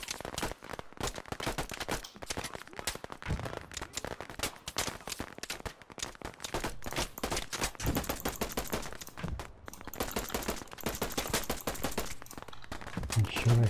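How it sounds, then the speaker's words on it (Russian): Rapid bursts of gunfire in a Battlefield/Arma 3-style video game crackle almost continuously, loud and dense, with scattered shots and a busy background throughout. "вот отсюда уже слышно, что звуки стрельбы"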